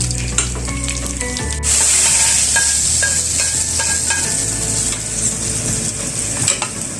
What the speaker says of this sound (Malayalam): നമ്മൾ കറിവേപ്പില ഇട്ടിട്ട് വെളിച്ചെണ്ണ കാച്ചി